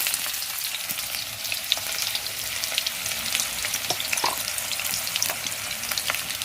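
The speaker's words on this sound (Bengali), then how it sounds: "আলুটা ভেজে নেব" Potatoes salted but not yet coated in turmeric frying in hot oil, a steady dense sizzle and crackle throughout with occasional small pops, close and moderately loud, no talking.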